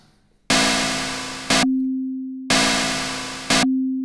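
Two repeated FM-synthesized hi-hat bursts with the oscillator in trigger loop mode, each a loud noisy hiss that cuts off abruptly and leaves a steady electronic hum ringing after it, in a looping pattern.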